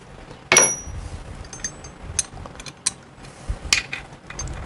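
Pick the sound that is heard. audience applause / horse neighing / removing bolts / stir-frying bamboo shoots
removing bolts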